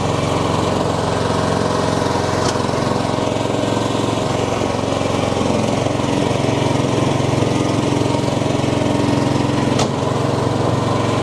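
A Stihl ride-on lawn tractor engine runs steadily nearby, a loud continuous buzzing drone with a strong low hum and no pauses, and no talking.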